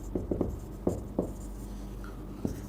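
Marker or chalk writing a geometry statement on a board, a string of short scratchy strokes and taps in irregular bursts, close and fairly quiet with no talking.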